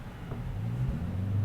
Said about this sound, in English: He's in his car and he's revving it in the driveway or something.